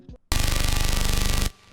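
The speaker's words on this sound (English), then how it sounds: "that was the hard bass sound that I used in this beat" Hard bass preset from the Serum synth, used in a rage-style trap beat, plays as one loud, dense, buzzing sustained note with a fast pulsing tremble for just over a second, then cuts off abruptly.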